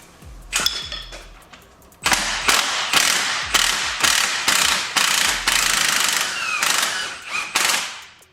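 A hand ratchet with a 17 mm socket loosens a car's sway bar end link in quick bursts of sharp metallic clicking. The strokes come in a rapid, uneven rhythm, close and loud, with no talking.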